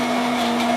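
A food processor whirs briefly in a steady, loud, high-pitched hum while grinding white spice paste, with no voices.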